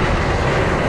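The Iron Gwazi roller coaster train at Busch Gardens rumbles along its track, heard from the back seat as a loud, continuous roar with no voices.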